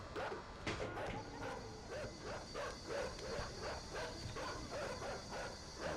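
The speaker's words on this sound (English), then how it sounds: "Bad dogs. Don't get aggressive." Dogs bark and yip aggressively in the video game Inside, several rapid sharp barks in a steady chain over about six seconds, with a voice speaking over them.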